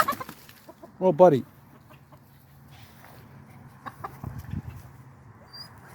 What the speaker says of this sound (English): the roosters won't fight, and they don't really fight too much. But sometimes they squabble.